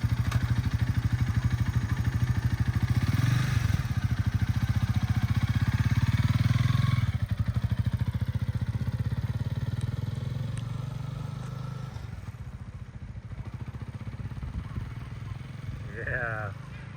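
A motorcycle engine revs hard with the clutch engaged while the bike jerks forward in traffic, a loud, steady low drone that fades and settles toward the end, with a voice speaking over it.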